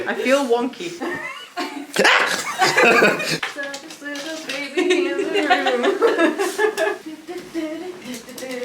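A dog barks and yips several times in quick bursts, close by, mixed in with people talking and laughing.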